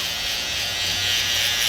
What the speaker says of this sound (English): I like this trimmer. This trimmer is super good.